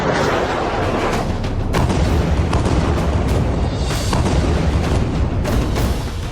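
Continuous heavy rumbling with repeated booming blasts, like explosions in the night sky over Israel during the Israel–Iran war, loud and dense throughout with no voices.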